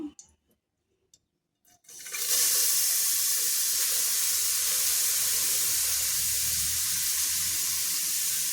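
Grated carrot drops into hot ghee in a pan for carrot halwa, and after a couple of near-silent seconds a loud, steady frying sizzle erupts and holds without letup.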